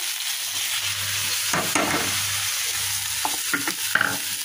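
Fish frying in a pan of oil at home, a steady sizzle with stirring and scraping bursts, close and moderately loud, with a low hum underneath.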